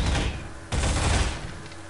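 Gunfire in the video game Half-Life 2: a dense burst of shots, a sharp new volley partway through, then a fading tail amid noisy game action, no talk.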